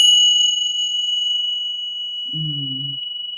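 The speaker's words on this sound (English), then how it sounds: "I love this chime." A single chime rings out clearly and then sustains as a long, pure ringing tone that slowly fades, with a brief low hum near the end.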